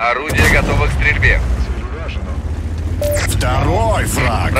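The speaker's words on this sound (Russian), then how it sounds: "Орудие готово к стрельбе." A T25 AT tank destroyer fires its gun in World of Tanks, two heavy blasts a few seconds apart over a low engine drone, with crew voices speaking throughout.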